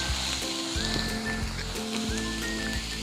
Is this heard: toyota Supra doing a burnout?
no